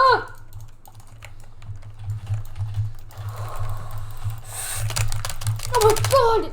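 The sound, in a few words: rapid mouse spam clicking during Minecraft kit PvP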